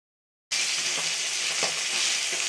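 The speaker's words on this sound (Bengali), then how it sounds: "এবার আস্তে আস্তে এইভাবে ঘুরিয়ে ঘুরিয়ে আমি ভালো করে ভেজে নেব চেপে চেপে" An aloo paratha fries on a hot tawa as it is pressed and turned, giving a loud, steady, close sizzle that starts abruptly and continues without a break.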